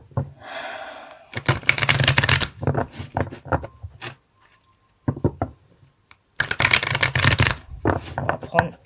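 A deck of cards is handled and shuffled close by, with bursts of rapid riffling and flicking between quiet pauses, and someone speaks softly in between.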